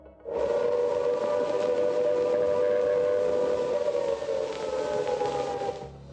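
A long, steady wail of an air raid siren holds a single mournful tone for several seconds, then fades away, sounding somewhat distant.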